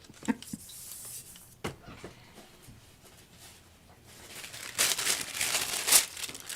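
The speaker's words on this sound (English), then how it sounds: "That's the sound of deli paper." Deli paper crinkles and crumples close by, with scattered rustles early on and a louder, sustained crinkling burst near the end, faint talk in the background.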